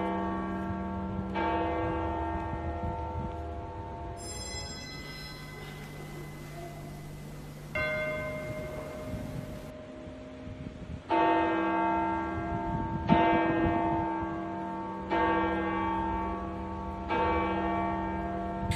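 Catholic church bells ringing in Indonesia, a series of loud resonant strikes at varied pitches, each ringing out and overlapping into long decaying tones, heard alone without voices.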